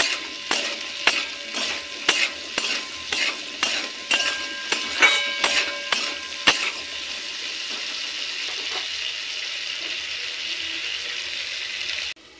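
Mixed vegetables with peas lightly frying in a wok: a run of rhythmic stirring taps is followed by a smooth, even hiss that continues alone until it cuts off.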